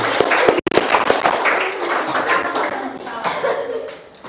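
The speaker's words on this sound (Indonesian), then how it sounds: "Tepuk tangan tuh yang pegang kepala." A classroom group claps together: sharp hand claps at the start, then a looser patter that fades under chatter and light laughter.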